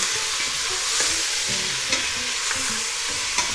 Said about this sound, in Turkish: Hemen etimizi kavuruyoruz.